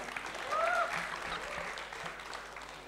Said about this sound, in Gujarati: વેલકમ કરીશ વૈશલ શાહ જોરદાર તાળીઓના અવાજ સાથે